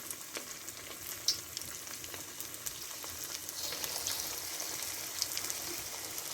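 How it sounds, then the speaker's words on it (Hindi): Keema pakoras fry in hot oil, giving a steady soft sizzle with scattered small crackles and pops, fairly quiet and close, no talking. "अब हमारा ऑयल गर्म है, इसमें मैं डाल दूँगी पकौड़े।"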